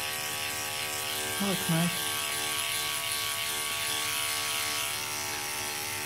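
Electric dog clipper trimming an Airedale's coat short and tight along the loin, a steady close mechanical buzz running throughout, with a brief spoken remark over it.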